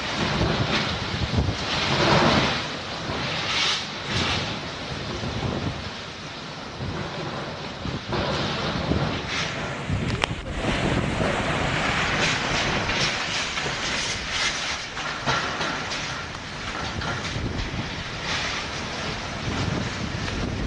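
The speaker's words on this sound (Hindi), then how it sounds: "लगभग 90 से 110 किलोमीटर प्रति घंटे की रफ्तार से हवा चल रही है। आवाज सुनिए आप।" Cyclone Nisarga's strong wind at sea near Alibaug and the Gateway of India, gusting at about 90 to 110 km/h, makes a constant loud, rumbling roar with heavy buffeting against the microphone that continues without a break.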